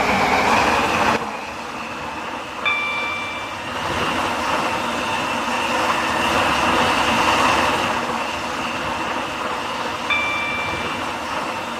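An Airlink train in Roblox's Stepford County Railway runs steadily with a continuous rolling rumble and rail noise, a brief high tone sounding twice over the ride.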